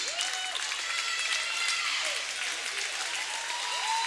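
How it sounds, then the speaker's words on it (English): A basketball gym crowd applauds the departing seniors, a steady wash of clapping heard from a distance, with sneaker squeaks chirping faintly on the court. "And a nice applause for the seniors"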